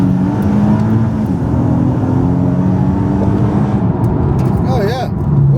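Throttle blip from a BMW M3 E92 track car's engine as it downshifts on track, a loud steady engine drone with a brief rise in revs, heavy cabin noise throughout and a voice speaking briefly near the end.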